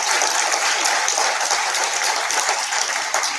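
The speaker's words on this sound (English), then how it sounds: "So let's give them all a big round of applause." A crowd at a small business summit claps loudly and continuously for the introduced vendors and speakers, a thick, even roar of many hands with no voices standing out.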